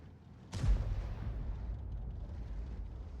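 A single heavy artillery shell fired in World of Tanks strikes two tanks at once, with self-propelled guns such as the Bat.-Châtillon 155 55, M53/M55 and Grille. It lands as one loud, close boom followed by a long, low rumbling tail.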